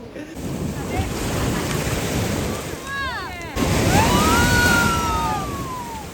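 Sea waves and wind on a beach beside a resort between sea and backwater: a steady roar of surf and gusting wind buffeting the microphone, with some faint whistling tones partway through.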